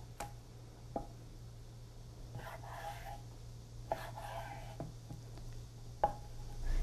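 A knife cuts squid into strips about 1 cm wide on a board, making soft, widely spaced thuds and brief slicing swishes, several strokes over a quiet low hum without speech.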